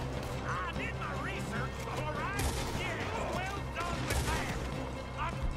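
Gunfire rings out during a moonshine-business mission in Red Dead Redemption 2, scattered shots cracking amid busy game noise and music, with voices talking over the action.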